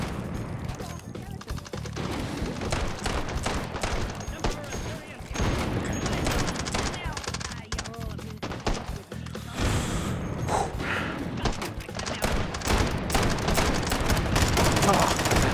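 A .45-70 rifle fires repeatedly in the VR game Hot Dogs, Horseshoes & Hand Grenades, sharp shots mixed with mechanical clatter and a busy background of battle noise, with a voice talking at times.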